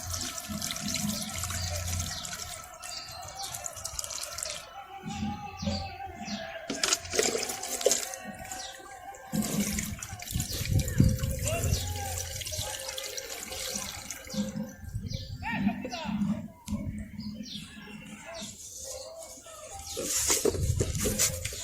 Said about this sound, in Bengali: এই যে দেখে নিন ঠিক এইভাবে জল দিয়ে দেবেন আর এইটাতেও ঠিক সেইভাবেই আলতো করে আপনারা জল দিয়ে দেবেন